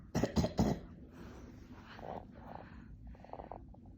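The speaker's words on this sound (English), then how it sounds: "What are you coughing?" A string of forced, fake coughs comes in quick bursts at the start, close and fairly loud, followed by quieter throat sounds and small vocal noises in a hushed room.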